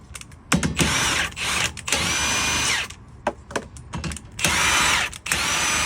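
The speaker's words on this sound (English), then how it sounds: "then if everything is good, then I use the impact gun" A pneumatic impact gun drives lug nuts onto the wheel studs of a Honda Element. It fires in several loud, rattling bursts with short pauses between them, close up.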